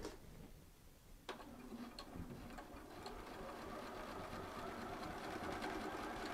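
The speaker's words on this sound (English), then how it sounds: "I can just do straight stitching." A Bernina sewing machine runs steady straight stitching, a soft continuous mechanical whir with fine rapid ticking, fairly close and alone, starting after a brief quieter moment.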